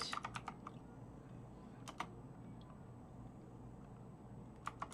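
Quiet computer keyboard typing during game development work, a few scattered bursts of soft key taps over a low steady hum, faint and fairly distant.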